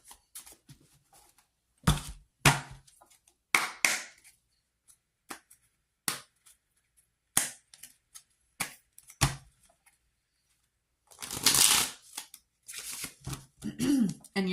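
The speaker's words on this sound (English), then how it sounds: "I have to cut again. Cut. Lay that card down." Tarot cards are cut and laid down in a quiet room, heard as a series of short, sharp slaps and shuffles separated by silence, with brief soft speech toward the end.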